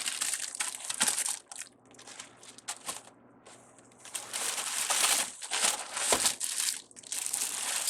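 Foil Valentine's ribbon mesh crinkles and crunches as it is handled, in close, busy bursts of crisp rustling that swell and fade over several seconds.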